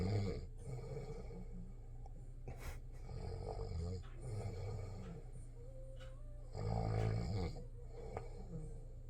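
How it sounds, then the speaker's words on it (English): A person snores in slow repeated cycles, each a rough, rattling intake breath followed by quieter exhales, close and fairly loud, with about four snores across the span and no talking. "It was me snoring."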